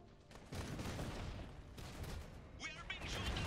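Gunfire crackles in the strategy game Iron Harvest, dense bursts of shots and booms under loud battle noise in a campaign mission set in Arabia, with voices speaking over the fighting.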